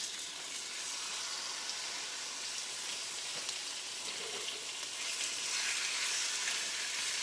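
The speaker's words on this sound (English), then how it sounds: "You hear that? Sizzling. That's what you want it to do." Chicken sizzles in a hot skillet after a dusting of onion powder, a steady bright hiss of frying fat running without pause, close and fairly loud, with no voices over it.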